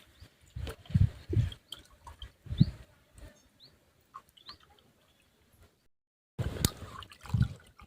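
Whole potatoes are sloshed and rubbed by hand in a basin of water, giving splashy, clunking bursts and trickles with a short silent pause before a final burst of swishing.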